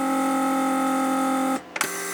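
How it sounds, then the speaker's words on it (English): A Mercedes central door lock pump runs with a steady mechanical whir that cuts out abruptly, followed by a couple of short clicks as it works to build pressure and vacuum; close and fairly loud, with no talking. "the pump is gonna start working now"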